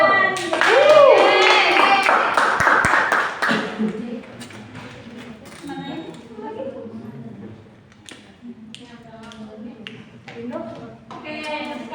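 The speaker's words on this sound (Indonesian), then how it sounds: "Ya, tepuk tangan." Schoolchildren in a classroom clap their hands together in a lively burst mixed with young voices. After a few seconds the clapping dies away and a teacher keeps talking.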